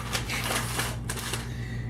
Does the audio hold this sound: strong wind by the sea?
no